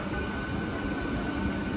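A train rolls through a flooded Kolkata railway area after heavy rain, a loud, continuous low rumble and roar that holds steady throughout.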